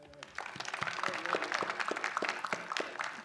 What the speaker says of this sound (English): let's give us a big round of applause.